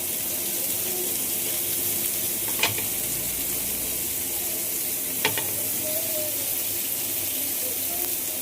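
Food frying in a pan gives a steady close sizzle throughout, with a couple of faint clinks from stirring and no speech.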